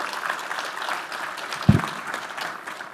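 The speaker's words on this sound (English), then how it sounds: "let's give her a nice round of applause" Audience applause at an open source security conference talk as the Linux Foundation board chair is welcomed on stage: steady, dense clapping across the room with one brief louder knock near the middle.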